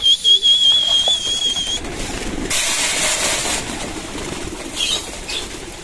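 Pigeons burst into flapping wingbeats at a feeding spot where grain is scattered on the ground and a metal tray, loud and close, with a rush of wings mid-clip and faint chirps, no talking.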